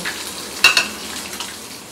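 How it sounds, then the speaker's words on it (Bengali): Oil sizzles and spatters in a pan, a soft constant crackle with a couple of sharper pops near the start. "মাছটা ভাজছি সেই জন্য"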